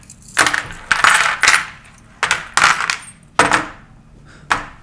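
A handful of small metal charms tipped and shaken onto a surface, giving about seven bright, loud, close clattering bursts separated by short pauses, with no voices.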